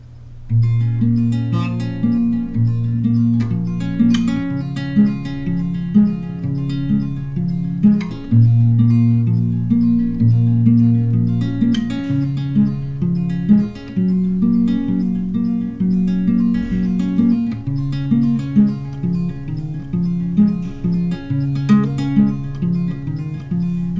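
A guitar plays the chorus of a song alone, up close, with a steady chord pattern and small melodic fills between chords.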